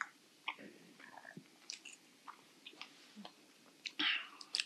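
Quiet, close chewing and soft crunching from people tasting a vegan fruit salad for pasta lovers, scattered irregular bites with small mouth noises and faint breaths.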